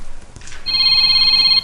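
A cellphone ringtone sounds as a bright, steady electronic chime that starts abruptly after some faint rustling, rings continuously for about a second, then cuts off, with no talking.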